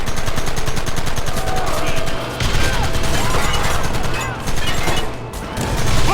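Sustained gunfire in the Red Dead Redemption game: rapid, dense bursts of machine-gun-like shots rattling continuously for several seconds at close range, with brief dips in intensity.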